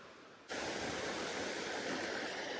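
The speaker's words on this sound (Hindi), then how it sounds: "ये फर्स्ट वाटरफॉल है।" A waterfall at Sumber Pitu in East Java bursts in as a loud, steady broadband roar after a quieter start, close and continuous with no voices.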